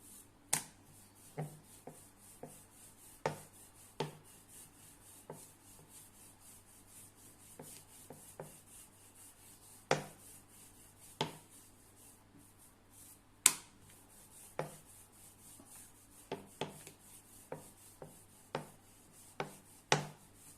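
Banana puri dough being rolled out with a rolling pin, giving soft rubbing strokes punctuated by irregular light knocks and taps against the board, quiet and close with no talking.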